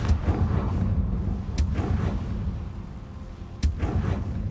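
A Confringo blasting curse in Hogwarts Legacy, a deep rumbling explosion with a sharp crack at onset and a second sharp burst later over sustained low roar.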